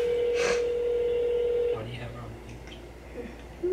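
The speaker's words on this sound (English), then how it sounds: "I'm calling my cousin Hannah." A phone dial tone holds steadily, then a short tone sounds before the line changes, with background speech faintly present.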